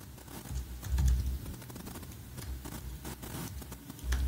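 Fingers type on a computer keyboard, a quiet irregular patter of close key clicks over several seconds with no talk.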